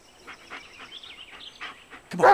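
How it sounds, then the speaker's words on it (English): A dog in a video game gives soft yips and whimpers, then lets out a sudden, louder bark at the end. "What are we barking at?"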